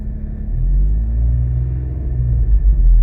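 A Nissan Pathfinder 4.0 petrol engine with a faulty throttle runs close by, giving a steady, heavy low rumble that swells and eases slightly as it revs unevenly, with no talking.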